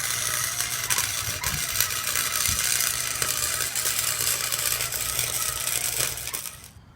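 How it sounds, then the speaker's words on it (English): A welding gun joins adapter pieces on a kit car restoration in a garage, giving a steady, dense crackling sizzle with a low hum beneath that runs unbroken for several seconds, then cuts off at the end. "we're going to go ahead and use the welding gun and do an actual weld on both sides to secure that"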